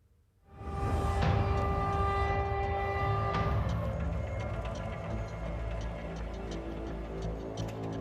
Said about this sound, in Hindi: रेलवे ट्रैक पर धड़धड़ाती हुई ट्रेन तूफानी रफ्तार से दौड़ती चली आ रही है।